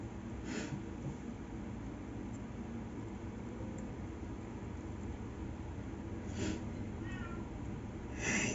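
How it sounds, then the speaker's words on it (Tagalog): A cat meows faintly a few times, spaced far apart, over a steady background hiss. "Pusa."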